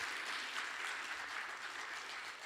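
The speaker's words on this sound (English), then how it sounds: "Let's have another round of applause for those amazing singers, Michaela Plummer and Bree Taylor." An evening audience applauding singers at a celebration event, a dense, steady wash of many hands clapping that carries on throughout without pause.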